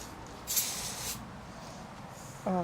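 A short hiss from a spray can bursts out for about half a second amid quiet room noise during a bicycle rebuild, followed near the end by a brief tonal squeak.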